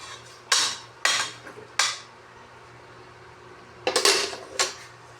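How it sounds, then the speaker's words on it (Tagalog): A spoon scrapes and clanks against a pot of shrimp sinigang in a few sharp metallic bursts separated by pauses, near and fairly loud, with no talking. "Haluin natin yung siniganggang sa pinahipon"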